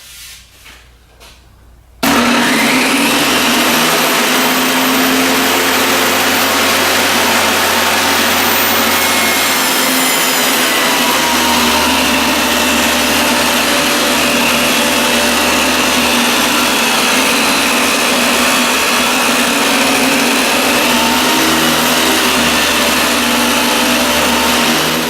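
A loud power tool starts abruptly and then whines steadily for over twenty seconds while it cuts a quarter-inch deep, half-inch wide groove in a wooden board for a beehive winter cover frame. The pitch shifts slightly as the cut goes on.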